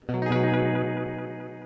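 A Wem Watkins Copycat tape echo machine sustains a single rich, chorused tone with echo. The tone sounds loud and close, then slowly fades over a second and a half.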